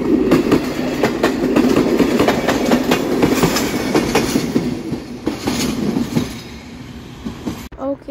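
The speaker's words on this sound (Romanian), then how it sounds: "Al treilea tren vine chiar acum" A train passes in a video game with a steady rumbling roll and rhythmic clickety-clack of wheels over rail joints, loud and continuous before easing off near the end, with no talk over it.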